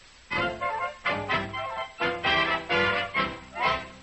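A violin plays a slow melody of sustained, bowed notes with vibrato, each swelling and fading in turn, clear and close.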